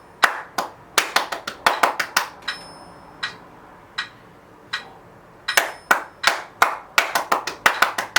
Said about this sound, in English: Okay, let's clap them.